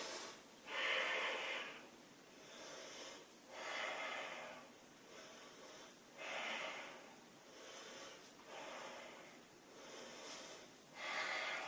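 Slow, deliberate breaths while holding a high yoga lunge, about five soft inhale-exhale cycles with airy, slightly snorting exhales, close and quiet with no talking.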